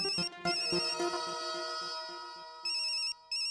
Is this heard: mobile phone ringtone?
yes